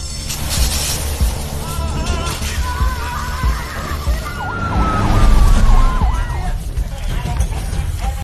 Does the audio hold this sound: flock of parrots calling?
no